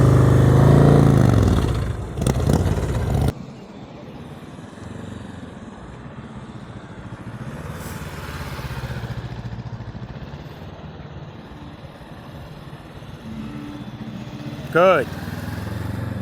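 Motorcycle engine at slow speed during tight-turn practice in Florida, loud and close at first, then a steady low hum under ongoing talk, with a short burst of revving near the end.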